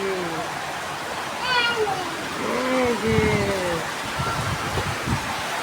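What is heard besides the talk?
heavy rain and wind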